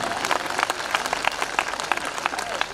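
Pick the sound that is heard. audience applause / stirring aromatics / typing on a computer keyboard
audience applause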